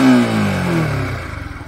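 A Yamaha R15 v4 sport motorcycle engine revs up loudly and close by, then drops back to a throbbing idle, heard alone with no talking.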